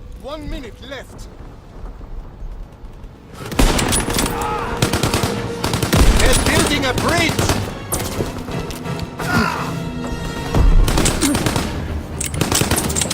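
Loud, dense bursts of machine-gun and rifle fire with explosions fill a World War II shooter battle, nearly continuous after a quieter opening, with a voice speaking over the fighting.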